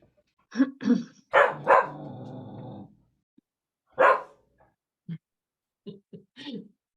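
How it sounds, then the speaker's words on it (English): A dog growls and barks in short bursts indoors during a meeting, fairly faint and intermittent, with a few brief gaps of quiet. "I heard a dog growl."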